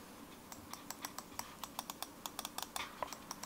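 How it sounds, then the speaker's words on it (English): Crisp, close clicks from the side buttons of a Razer Viper gaming mouse, pressed one after another at a slightly uneven pace, with a short quick burst near the end. "So very solid mouse clicks."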